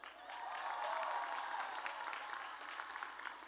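Audience applause for high school graduates at a graduation ceremony, a steady wash of many hands clapping together, fairly distant and soft, swelling briefly then holding even to the end.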